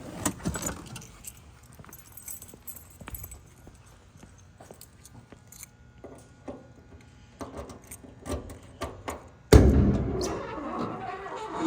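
Keys jangle in light, scattered clinks near the trunk of a 1970 Chevrolet Chevelle, followed by a louder thump and rustle as the lid opens, with no talking.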